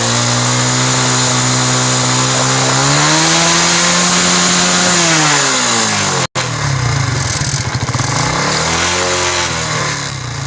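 A 70cc motorcycle engine idles loud and close, its buzzing note rising and falling as the throttle is blipped, with a brief cutout midway before it keeps running.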